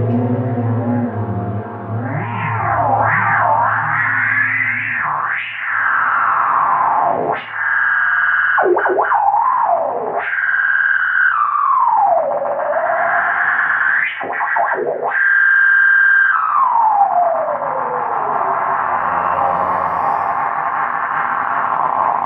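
Swooping, warbling electronic tones from a Nocturne BS 301 Mystery Brain guitar pedal, heavily processed with distortion and echo, sliding up and down in pitch like spacey effects.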